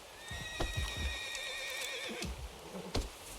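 A horse in the Western open-world game Red Dead Redemption 2 gives several loud, close whinnies with a few clip-clop hoofbeats, heard alone without talk.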